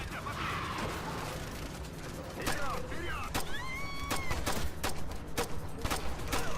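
Gunfire in the video game Ghost Recon Future Soldier, a series of sharp shots, single and in bursts, with whistling effects and a steady background hum, heard under a voice commenting.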